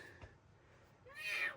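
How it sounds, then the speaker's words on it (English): A mostly white house cat gives one short meow near the end, after a quiet stretch, fairly close and clear. "Here's my cat."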